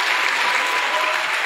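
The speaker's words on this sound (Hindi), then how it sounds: "अपने लिए तालियां बजाइए" A brief, dense burst of audience applause, steady and fairly loud from start to finish.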